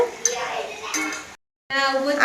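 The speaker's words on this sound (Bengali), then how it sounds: "সব কাটাকুটি চলছে।" Utensils clink and clatter in a home kitchen during birthday meal preparation, with scattered metallic knocks and rattles, a brief silent gap, then more close clattering.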